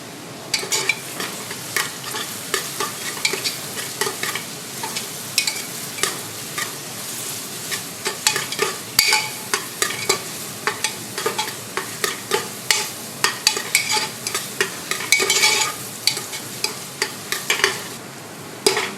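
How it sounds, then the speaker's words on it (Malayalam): Green chillies, curry leaves and onion sautéing in a pan for beef vindaloo: a loud, close sizzle broken by frequent sharp scrapes and clatters of stirring, steady throughout with no talk. "പച്ചമുളക്, കരിവേപ്പില, സവാള ഇത്രയും വഴണ്ടിട്ടുണ്ട്"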